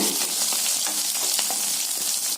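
Coriander seeds dry-roasted in a pan, giving a loud, continuous dry sizzle and rustle with a few quick stirring scrapes, cutting off abruptly at the end.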